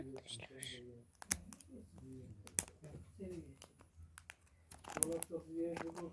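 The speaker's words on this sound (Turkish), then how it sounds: "Şöyle buradan açılıyor jiletinle. Açıyorum." A cardboard box is sliced open with a razor blade, giving scattered sharp clicks, scrapes and crinkling tears under steady nearby talking.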